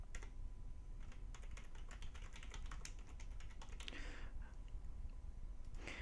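Fingers tap out a name on a computer keyboard in a quick, uneven run of light keystrokes, faint against a quiet room with no talking.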